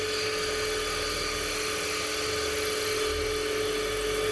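A drill boring a bolt hole through a custom brake adapter for a Triumph chopper, stepping up through drill sizes in a workshop; a steady, continuous whine holds throughout with slight swells in load, loud and alone without talk.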